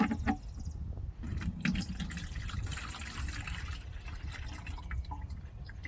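Liquid compost tea is strained, pouring and dripping with trickles and splashes of water into a container, close by and continuous with small irregular drips.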